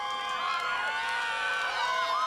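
A studio audience cheers and applauds steadily, a dense continuous roar of clapping mixed with whoops and shouting voices held at an even loudness.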